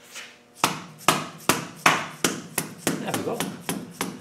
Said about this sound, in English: I've used my rubber mallet to put that on